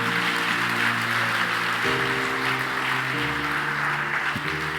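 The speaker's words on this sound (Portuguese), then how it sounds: "Se é para o Senhor, pode aplaudir." A church congregation at a Sunday morning service claps steadily as a wash of applause over sustained keyboard or organ chords that shift a few times, with no talking.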